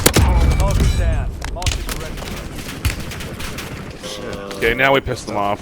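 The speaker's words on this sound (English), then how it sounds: "They're now they're shooting at us." Rapid video game gunfire from an online shooter, dense bursts and volleys of shots filling the clip, loud and near, with players talking over the shooting.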